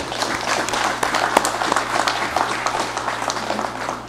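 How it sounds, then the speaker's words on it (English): An audience at a regular legislative session applauds a visiting royal dignitary, a dense, steady wash of clapping from many hands filling the hall, moderately loud with a few sharper claps, no clear talk. "may we give him a round of applause"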